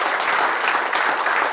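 Audience applause following a talk on a success book, dense steady clapping filling the room for a brief moment with no voices over it.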